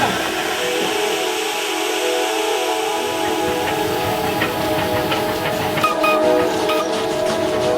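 A train on the Nilgiri Mountain Railway in India rumbles past through jungle with steady mechanical droning and a high whistle-like tone, loud and continuous throughout.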